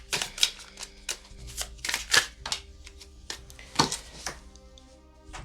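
Tarot cards being shuffled close up, with irregular quick riffling and soft slapping bursts as the cards flip and fall out of the deck, no talk.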